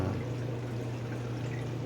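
Water in a 180-gallon saltwater reef tank sloshes steadily under a wave maker's surface agitation, a continuous close wash with a low pump hum underneath.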